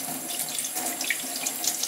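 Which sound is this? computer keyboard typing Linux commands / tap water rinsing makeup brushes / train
tap water rinsing makeup brushes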